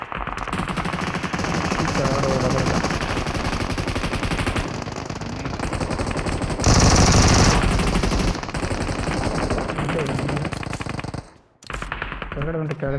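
Machine gun fire in a BGMI video game gunfight, dense rapid bursts rattling almost continuously with a louder blast partway through, over game background sound, ending in a brief pause before more firing.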